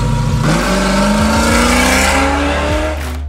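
A supercharged 1970 Dodge Charger R/T muscle car engine revs hard and loud up close, its deep rumble rising in pitch with a rough, aggressive growl.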